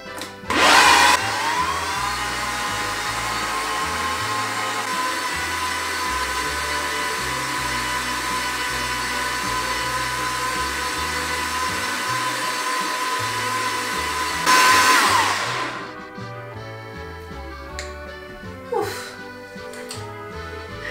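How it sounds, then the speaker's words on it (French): A countertop blender whirs steadily and loudly for about fourteen seconds, puréeing spinach, parmesan and olive oil into pesto, then winds down into quieter kitchen clatter. "Je vais mixer tout ça"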